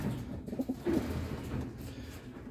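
Low, throaty cooing from a pair of young sport pigeons in a couple of short phrases, close by, over a rumbling background.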